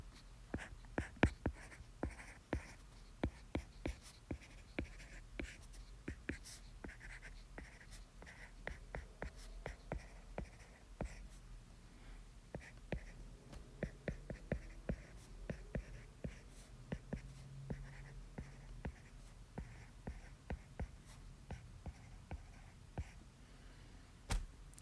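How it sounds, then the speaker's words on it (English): Quiet close-up pen strokes on paper as a chemical equation is written out by hand, soft irregular scratches and taps over a faint steady background, with no speech. "So we're going to start writing out our balanced equation."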